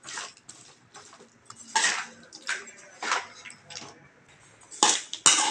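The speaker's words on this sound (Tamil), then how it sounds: "இப்போ சேர்த்து நல்லா கலந்துக்கலாம்." A spoon scrapes and clatters against a bowl while mixing mango pickle with chilli powder, in close, irregular bursts of stirring with short pauses and no talking.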